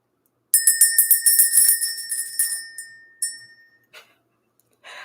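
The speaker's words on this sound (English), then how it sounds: "Let's ring the bell." A handheld bell rung to clear energy gives a rapid run of bright, ringing strikes that fade over about three seconds, then one more strike, close and alone.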